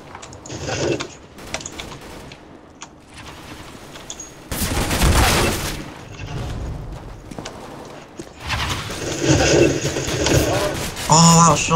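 Gunfire in the video game CS:GO, bursts of pistol and rifle shots crackling in busy, overlapping clusters with game effects, loud and near under excited voices.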